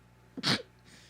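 A single short sneeze bursts out mid-conversation, fairly close and moderately loud, followed by a faint breathy trailing sound.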